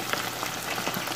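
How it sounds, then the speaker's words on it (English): Chicken pieces for salt and pepper chicken fry in a pan of oil, giving a steady, dense sizzle and crackle with no talking. "I have a good portion of it frying here"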